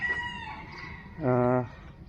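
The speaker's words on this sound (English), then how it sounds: "look, roosters and chickens have gone mad" A rooster crows once, loud and close, in Saigon, over faint background clucking and a distant voice.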